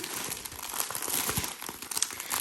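Plastic packaging for a diamond painting kit crinkles and rustles continuously during an unboxing, with close, irregular crackling bursts and brief tearing-like scrunches throughout.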